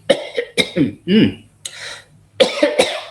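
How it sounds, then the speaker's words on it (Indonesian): A person coughs several times in short bursts, close and loud, mixed with brief bits of speech before and after. "kok batuk malah"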